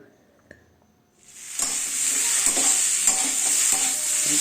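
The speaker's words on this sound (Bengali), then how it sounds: "আর তারপরে ডিমগুলো ভেজে নিলাম" Eggs frying in a pan on the stove, a soft hiss that swells in at about a second and then holds as a steady loud sizzle with small pops and crackles.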